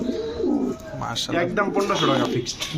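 Danish pigeons coo nearby in soft, throaty, rolling phrases that come close together. Faint chatter and other birds can be heard behind them.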